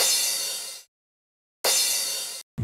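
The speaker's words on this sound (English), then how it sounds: "I'm just going to use the normal crash." Crash cymbal sample in FL Studio struck twice, each hit a bright, loud wash that is cut off abruptly after under a second, with a short gap of silence between the two hits.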